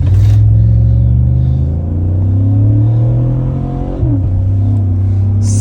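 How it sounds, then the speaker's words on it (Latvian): An American V8 car engine rumbles loudly and close, with a deep steady throb that swells as it revs, dips briefly, then climbs again, with no voices over it. "Skaņa vienkārši fantastiska. Amerikānis V8, kur var būt skaistāk."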